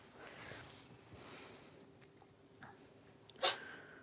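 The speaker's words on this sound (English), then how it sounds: "I feel like Daisy and I both keep sneezing." A single sharp dog sneeze bursts out near the end, following a few seconds of quiet room sound with faint small noises.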